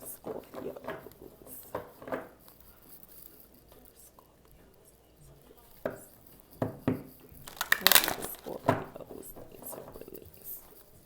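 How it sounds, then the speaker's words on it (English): Tarot cards being shuffled by hand, soft papery riffles and crinkly rustles that come in scattered bursts, quiet and close, with a bit of whispered talk mixed in. "I hope these cards aren't too loud when I'm shuffling them."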